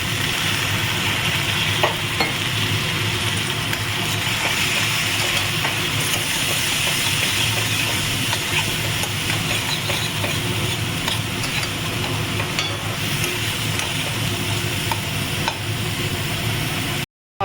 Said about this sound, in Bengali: মশলাটা সুন্দর করে আমার কষানো হয়ে গেছে